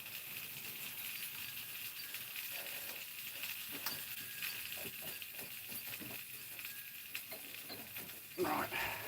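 A burger patty fries on a hot surface, giving a steady, fairly quiet sizzle throughout with faint scattered crackles and a brief louder burst near the end.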